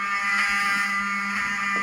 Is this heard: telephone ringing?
no